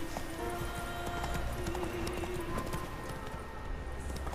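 Horse hooves clip-clop in The Witcher 3: Wild Hunt, set in Skellige, making a steady run of close hoofbeats over a continuous background hum with a faint tonal drone and no talking.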